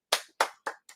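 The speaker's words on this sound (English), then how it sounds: "Golf clap." Four slow, light, spaced hand claps, each a sharp close smack fading quickly, with the last one softer, a deliberately polite golf clap.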